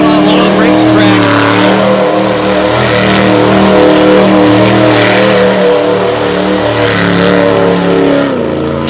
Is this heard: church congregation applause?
no